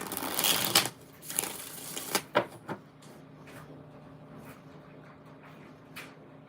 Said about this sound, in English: 2 more shuffles just for the hell of it.